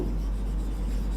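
Something writes on a board during a biology lesson, giving a short, continuous scratchy rubbing at close range with no talking.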